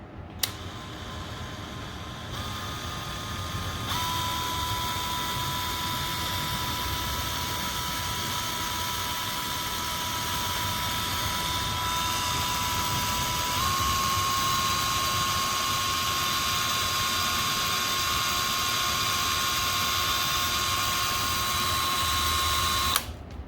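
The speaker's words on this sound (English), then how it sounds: "we will use the drill press to cross drill it and get our center for the high-speed steel" A drill press cross drills a steel bar to start a center for a high-speed steel boring bar, a steady motor whine with a clear high tone that shifts pitch partway, running continuously and close with no speech.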